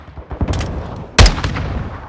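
Gunfire in the video game Modern Warfare 2 during a firefight around a building: a few sharp shots early, then one loud close blast at the middle followed by scattered fainter reports.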